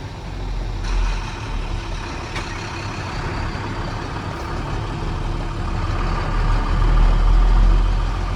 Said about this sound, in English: Got a couple of speed bumps to go over here in our industrial park, and then we'll get it up to speed out on the road.